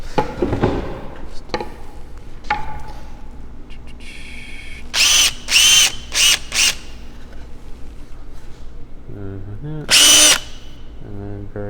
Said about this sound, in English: So I'm just going to drill here without the camera person